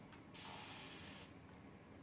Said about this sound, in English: now I'm gonna spray this over here